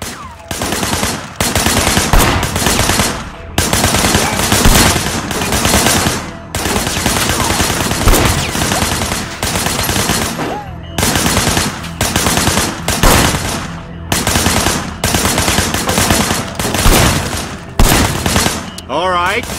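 Sustained bursts of automatic gunfire in the Sleeping Dogs video game, loud and close, coming in long rapid volleys separated by brief pauses, continuing throughout.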